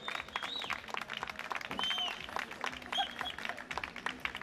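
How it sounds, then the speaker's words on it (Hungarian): Scattered clapping from a rally audience greeting a car crew at the 2017 Mecsek Rallye, moderately distant and thin, with brief whistles and crowd noise mixed in. "egy nagy tapsot kérnék a közönségtől"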